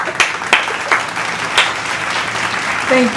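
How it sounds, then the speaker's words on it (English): An audience applauds on the set of a chat show, a steady wash of clapping with a few sharper claps standing out near the front. "Hold your applause, please"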